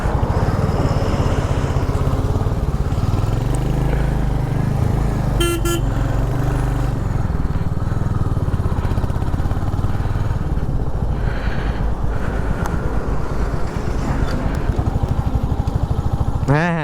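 Busy road carrying heavy vehicles during a motorbike trip from Durgapur to Santiniketan, with a constant loud engine rumble, passing traffic and a brief horn toot near the middle.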